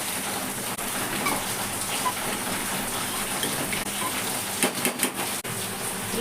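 Steady, close rain pours down in an even, dense hiss, with a few louder drops and splashes standing out near the end.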